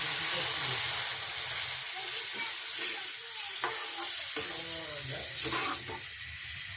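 Loud, continuous sizzling from a hot pan of fish curry with tomatoes, with stirring scrapes; the hiss surges briefly near the end as water hits the oil.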